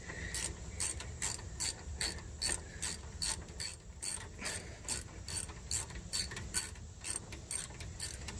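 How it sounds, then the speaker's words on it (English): A hand ratchet clicks in rapid, steady strokes while tightening 10 mm bolts on the rear brakes of a 2007 Dodge Ram 4x4, close and continuous with no talking. "We'll tighten these 10 millimeters up here."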